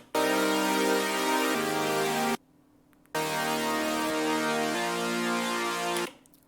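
A bright, buzzy saw wave synth layer for future bass, left unequalized, plays sustained chords in two phrases separated by a short gap, loud and harsh in the highs, no talk.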